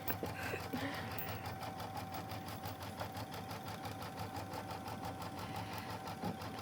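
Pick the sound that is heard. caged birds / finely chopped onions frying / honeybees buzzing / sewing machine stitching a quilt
sewing machine stitching a quilt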